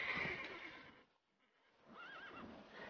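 A horse in The Witcher III video game whinnies twice, a bright, shaky neigh near the start and another rising whinny after a brief lull, fairly close and clear.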